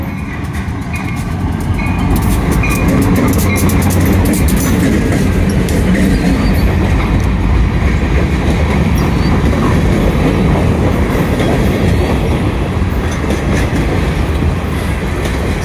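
A long freight train, MI-61, rolls past close by near Millville, a loud continuous roar of wheels and rattling cars with rhythmic clacking that never lets up.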